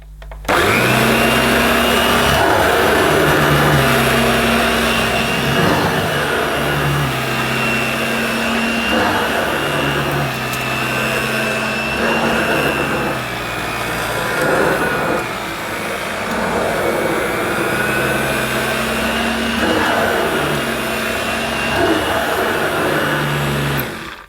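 A Dirt Devil Broomy Broom Vac 750 vacuum cleaner runs loudly on carpet with a steady high motor whine and roar, its pitch dipping slightly as it is pushed back and forth, with occasional talk underneath.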